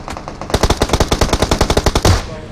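Rapid automatic gunfire in the mobile battle-royale game PUBG Mobile: a burst of about sixteen evenly spaced sharp shots over roughly a second and a half, loud and close, without talk.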